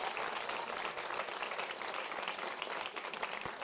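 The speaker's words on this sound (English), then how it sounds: "Let's have a round of applause for them." Audience applause at a Bay Area boba event as the hosts are welcomed: a fairly faint, steady wash of many hands clapping, continuing throughout.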